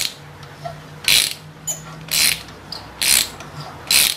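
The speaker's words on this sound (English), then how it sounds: "the threads aren't super clean, otherwise I wouldn't need to ratchet this thing" Hand ratchet driving a bolt into worn, dirty threads on a tub grinder jackshaft during refurbishment, four loud bursts of rapid pawl clicking about a second apart, close up, with no talking.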